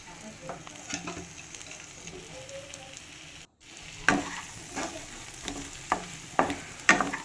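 Chopped tomatoes fry in a pan for prawn malai curry while being stirred, a soft steady sizzle broken by scattered spoon scrapes and clinks, fairly quiet and close, with no talking.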